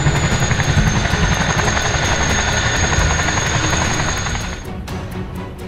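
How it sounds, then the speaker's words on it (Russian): Twin-rotor Chinook military helicopter flying, a loud steady rotor thrum with rapid blade chop and a high whine, holding level before easing off slightly toward the end; no voices. "Вертолеты семейства «Чинук» до сих пор являются основными в американской армии."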